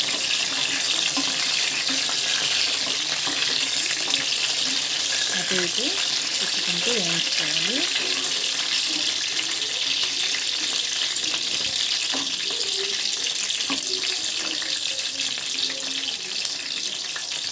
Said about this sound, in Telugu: నాలుగు వైపులా వంకాయ వేగే విధంగా తిప్పుకుంటూ వేయించుకోవాలి